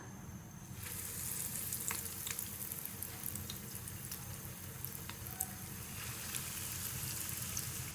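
Bread dipped in egg shallow-fries in hot oil for a Kannur Thenga Muri snack. A steady, close crackling sizzle starts after a quiet first second and continues with small pops throughout, no talking.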